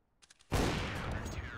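Close, sustained gunfire erupts in a Counter-Strike match on FACEIT, a dense continuous burst of shots that follows a few quiet, faint ticks.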